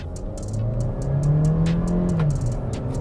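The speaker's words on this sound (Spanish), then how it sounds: "Ahora les voy a mostrar la aceleración" A SsangYong (KGM) Torres SUV launching at full throttle in Sport mode, its turbo engine giving a loud, steady drone that climbs smoothly in pitch as it pulls hard, with no voices over it.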